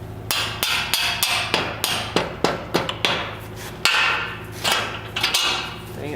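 A small hammer strikes a suspension bolt on an E36 camber arm setup, about a dozen sharp metallic blows in a steady rhythm with brief pauses, close and loud, no talking.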